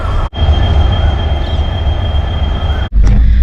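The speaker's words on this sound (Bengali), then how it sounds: "ট্রেন আসবে এখন ওয়েট করছি জাংশনে" A train pulls into a railway junction station with a loud, continuous low rumble of wheels and a steady high metallic whine, heard close and alone.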